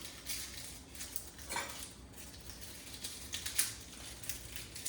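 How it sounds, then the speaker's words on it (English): A knife wedged between garlic cloves to pry them loose makes faint, scattered clicks and light scraping taps in a quiet kitchen, with an irregular rhythm and no talking. "shove it in between the cloves, and you should be able to peel them right out like that"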